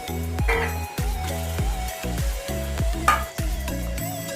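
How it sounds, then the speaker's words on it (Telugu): About a kilogram of chicken being stirred in a pot for harees, with rhythmic scraping strokes roughly twice a second over a soft sizzle, close and clear with no talking. "సో మనం చికెన్ కొంచెం మిక్స్ చేసేసుకున్నాం."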